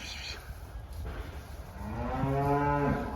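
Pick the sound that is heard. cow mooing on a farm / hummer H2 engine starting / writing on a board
cow mooing on a farm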